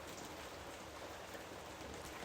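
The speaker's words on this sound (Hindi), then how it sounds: "मुझे पता है बारिश हो रही है, मुझे दिख रहा है बारिश हो रही है।" Steady rain patters and hisses evenly on surfaces outside a home, a dense, constant wash with no voices.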